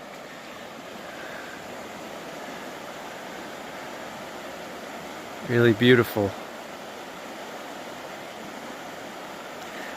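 Moshannon Creek, in a former coal-mining area of Pennsylvania, flows with a steady broadband rush heard throughout, while a brief spoken comment interrupts it midway.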